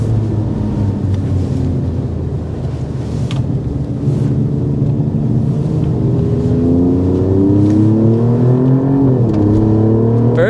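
A 2024 Alfa Romeo Stelvio Quadrifoglio accelerates hard on a track, its engine note climbing in rising, sweeping pitch through the gears with a deep growl and wind rush, loud and close throughout.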